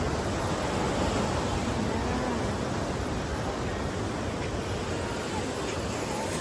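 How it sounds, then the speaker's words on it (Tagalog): Strong ocean waves on the Monterey coast along the 17-Mile Drive, a continuous broadband surf roar with wind, steady and loud without distinct breaks. "grabe yung alon, oh. Sobrang lakas."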